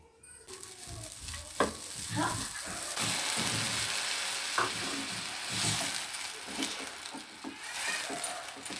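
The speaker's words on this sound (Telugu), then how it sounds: "లైట్ వేసుకొని సగ్గుబియ్యం కూడా వేయించుకోవాలి." Soaked sago pearls fry in a bowl with a soft continuous sizzle while a spoon stirs and scrapes them in repeated strokes, heard close and at moderate level.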